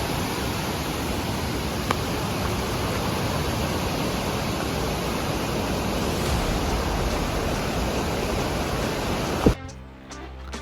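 Steady, dense roar of a waterfall in the forest on the trail to Ratna Ella in Sri Lanka. It pours on without a break, then cuts off abruptly near the end.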